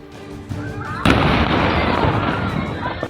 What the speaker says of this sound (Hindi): लखनऊ में बारूद, जोरदार धमाका